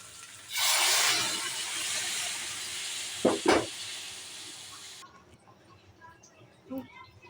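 Water poured into a hot pan of lightly fried rice for homemade khichuri, a loud hissing burst of steam lasting several seconds, then two sharp knocks and a quieter simmer with faint clinks.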